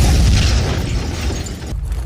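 A drone explodes after touching a power cable: a loud, rumbling blast with a deep boom that fills the space and rolls on, followed by a brief dip and continued low roar.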